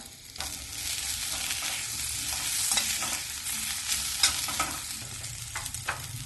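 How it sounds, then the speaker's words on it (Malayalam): A spoon scrapes and stirs potato curry in a hot pan, soft sizzling underneath and irregular clinks against the metal, close by with no talking. "കുറച്ച് മല്ലിയില മുറിച്ച് ചേർത്ത് ഇളക്കി കൊടുത്ത ശേഷം തീ ഓഫ് ചെയ്യാം."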